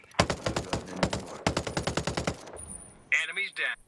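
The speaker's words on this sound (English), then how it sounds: "They're shooting." Gunfire in the game Ghost Recon Breakpoint: two rapid automatic bursts of close, sharp shots, followed by a brief crackling electronic effect.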